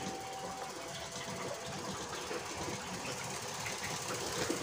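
A homemade 12 V DC dynamo gearbox turns at 30 RPM, a faint steady whirring with a soft rhythmic mechanical chatter close by.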